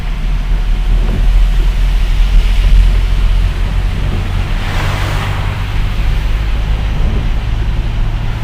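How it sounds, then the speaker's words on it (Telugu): A large waterfall pours down onto hillsides beside the road from Ahmednagar to Mumbai, heard from a truck cab with the windows open: a steady, loud rushing roar over a constant low engine rumble. "ఇది చూడండి ఎంత పెద్ద జలపాతం ఎట్లా ప్రవహిస్తుందో చూడండి ఒకసారి"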